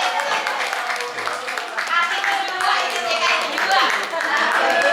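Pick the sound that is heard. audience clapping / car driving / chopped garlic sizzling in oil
audience clapping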